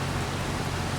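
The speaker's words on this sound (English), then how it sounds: "it should stop raining by now" Steady rain falling in the farming game Farming Simulator 25, a continuous dense hiss with no breaks or distinct drops, fairly loud and even throughout.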